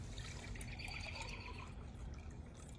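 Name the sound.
pouring water into a cup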